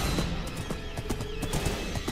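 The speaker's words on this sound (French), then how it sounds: "Il y a un cheval qui me poursuit." Rapid hoofbeats of a horse in a Minecraft UHC game patter steadily for a couple of seconds over a busy background, like a horse galloping close by.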